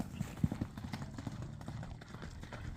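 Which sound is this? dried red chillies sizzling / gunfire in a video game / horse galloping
horse galloping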